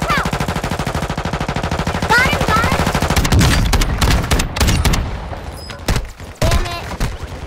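Automatic weapon fire in a battle-royale-style video game, with loud, rapid, evenly pulsed bursts and then scattered shots and thuds, while players talk over the shooting.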